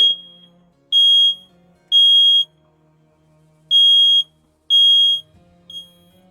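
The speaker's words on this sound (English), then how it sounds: "My smoke alarm just went off." A household smoke alarm shrieks in loud, piercing high-pitched beeps, about five long blasts with short gaps and a weaker final chirp.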